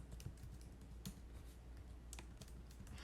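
Rapid, irregular keystrokes on a computer keyboard while entering text in Microsoft Word, steady clicking close up with no talking.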